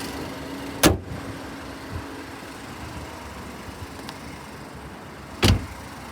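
A 2012 Ford Mondeo idles evenly with a low, steady engine hum, broken by two sharp loud thumps like door or body knocks.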